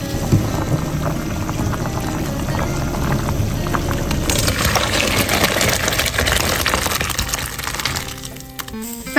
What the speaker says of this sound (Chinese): 再次烧开以后就能吃了